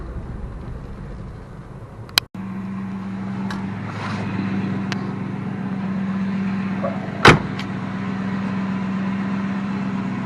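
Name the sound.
1962 Plymouth Belvedere engine idling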